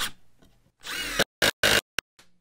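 Milwaukee impact driver set to level 3 driving GRK 3 1/8 inch number 10 screws, giving one sustained buzzing, hammering run followed by a few short bursts and a final brief tap, close and clear.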